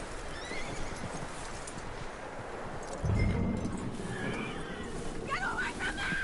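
A horse whinnies and neighs in Red Dead Redemption 2 beside clip-clopping hooves, with a louder burst midway and voices talking over the scene.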